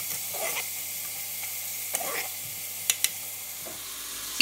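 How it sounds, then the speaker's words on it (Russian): Grated carrot sautéing in a pan for pea soup, a faint soft sizzle under occasional spoon stirring and light clicks against the pan, quiet and close with no talk. "Туда же добавлю морковку тертую. Она у нас тоже буквально чуть-чуть притушится."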